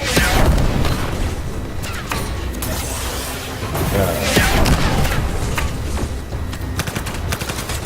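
Gunfire and booming weapon blasts from the Anthem shooter game, dense, loud bursts with sharp cracks scattered through a noisy, continuous battle mix, no speech.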